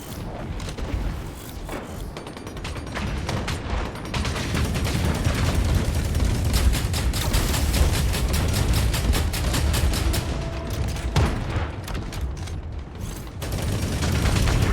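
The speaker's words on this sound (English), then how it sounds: "There's a lot of rockets flying around." Dense, continuous combat noise from the mech shooter Hawken: rapid repeated bursts of gunfire with rocket booms and mechanical clanking, loud and sustained throughout with no talking.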